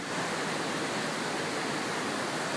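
Düden Waterfall in Turkey rushes in a constant, dense roar of falling water, loud and close, with no break or voices.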